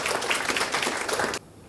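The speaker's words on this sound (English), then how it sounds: "just a round of applause for the panel" Brief burst of audience applause for a panel at a product management conference, steady dense clapping that cuts off abruptly after about a second and a half.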